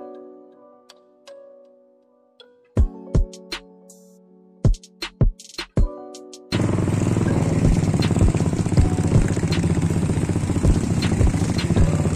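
Several sharp ticks and knocks come first. Then a motorcycle climbing a steep slope on a hill trail near Pachmarhi settles into a steady, close engine drone that continues to the end.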